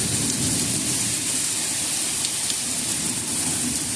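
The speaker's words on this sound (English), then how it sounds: "But it is a pop-up thunderstorm that popped out of nowhere." A pop-up thunderstorm near a house brings loud, steady, dense rain, with low thunder rumbling underneath the continuous downpour.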